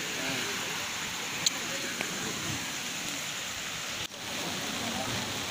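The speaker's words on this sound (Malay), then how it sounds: "Oh mak hujan lagi bang." Rain falls at a riverside campsite as a steady, dense hiss. It is moderately loud and continuous, with a couple of faint clicks and a brief dip near the end.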